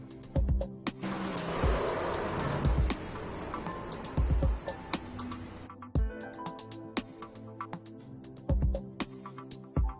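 In iRacing at Daytona at night, race cars collide and skid, giving a grinding, scraping rush followed by scattered sharp thuds and clicks of impacts against a faint engine drone.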